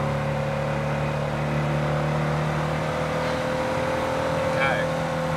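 A Porsche 356 B with a 60-horsepower engine running while driving, a steady droning engine hum with a constant low tone and a faint whine, holding at an even level throughout.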